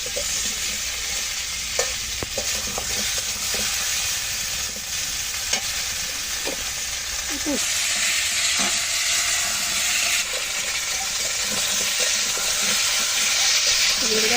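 Pointed gourd (potol) sizzles loudly in hot oil in a pan, browning, with a steady dense crackle and hiss and occasional scraping stirs of a spatula, and no talk.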